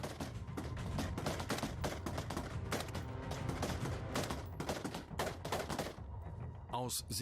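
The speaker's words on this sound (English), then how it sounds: "The cadets are firing from all barrels to elevate the bow towards the enemy." Rifle fire from soldiers in mountain terrain during German Army night combat training, rapid dense bursts of overlapping shots in a near-continuous fusillade, loud and close, with brief gaps near the end.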